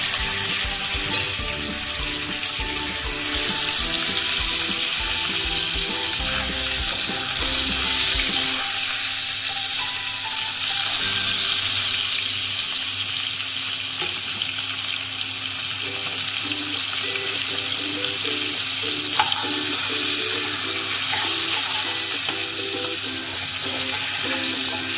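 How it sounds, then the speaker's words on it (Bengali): Hilsa fish head fries in a pan with a loud, unbroken crackling sizzle that persists for the full stretch, and a faint tonal hum runs beneath it. "মাছটা ভাজা হয়ে এসছে"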